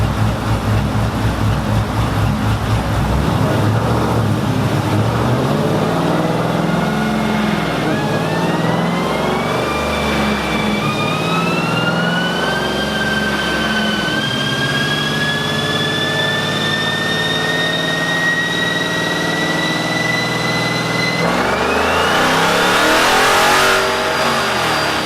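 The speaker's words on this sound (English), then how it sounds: "let's dyno our Challenger" A procharged 5.7 HEMI Dodge Challenger revs hard on a dyno, its loud engine sweeping steadily upward in pitch through a long pull before winding down, with no talk over it.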